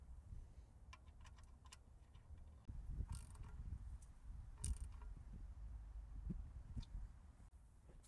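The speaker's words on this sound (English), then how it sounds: "And gonna secure drain bolt." A ratchet snugs the oil pan drain bolt on an Infiniti G37 during an oil pan gasket replacement, giving faint, scattered clicks and small metallic taps against a quiet garage background.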